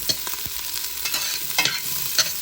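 Onion and ginger sizzle in a hot pan as a broth for mussels is started, with a steady hiss broken by several scraping stirs of a utensil; nobody speaks.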